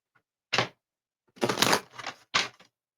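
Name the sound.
shuffling tarot cards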